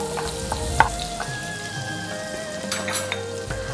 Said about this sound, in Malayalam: ഒരു രണ്ട് സ്പൂണൊക്കെ ബട്ടർ ഇട്ട് കൊടുക്കാം. ഇഞ്ചി പച്ചമുളകും ഇട്ട് കൊടുക്കാം. ഇത് നന്നായിട്ടൊന്ന് സോർട്ട് ചെയ്യാം.